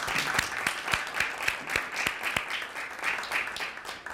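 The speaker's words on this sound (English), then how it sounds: "So I'm going to give us a round of applause on that." Audience applause, a fairly faint patter of clapping with distinct individual claps spaced through a short burst, heard alone without talk.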